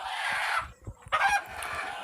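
Sonali chickens kept on a rooftop poultry farm cluck and call in short bursts, fairly faint, with a brief pause between flurries of bird sounds.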